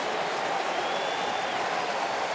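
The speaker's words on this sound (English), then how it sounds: "Crowd loves it." A baseball crowd at a ballpark bursts into steady applause and cheering after a near triple play, a broad wash of clapping from many hands that holds at an even level throughout.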